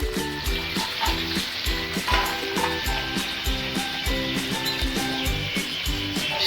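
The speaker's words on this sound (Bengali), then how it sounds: "সিদ্ধ করে রাখা আলুটাকে আমরা অ্যাড করে দিলাম।" Boiled potatoes stirred into chicken curry frying in a pan, a busy sizzle with rhythmic spoon scrapes and knocks repeating every half second or so.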